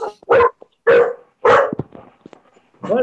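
Several dogs bark in short, loud, close bursts of four or five barks with gaps between them, indoors in a home.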